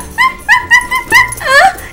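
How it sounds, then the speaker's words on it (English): A new puppy in a family doll story yips and whimpers in a run of short, high, loud cries that end in a rising whine, heard up close with no talk. "This here's my new puppy."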